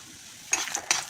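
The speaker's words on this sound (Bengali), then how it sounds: "তেল গরম হয়ে গেছে, এখন বড়ি দিয়ে দিচ্ছি।" Lentil dumplings (bori) dropped into hot oil for a Bengali dudh shukto, with short bursts of crackling and sizzle arriving after a quiet moment, each flaring briefly and then settling.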